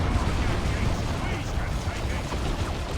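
A sustained artillery barrage in Warhammer 40,000: Dawn of War 2, a steady roiling rumble of distant blasts under a speaking voice.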